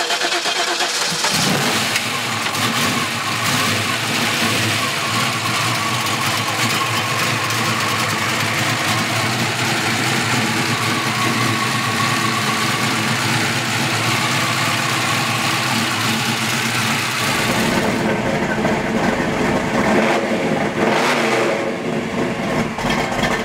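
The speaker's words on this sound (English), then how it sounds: "This little small block 400 is making some power." A 1972 Chevrolet Chevelle with a small block 400 V8 runs loud and close, its engine note swelling and easing with throttle changes before settling lower near the end.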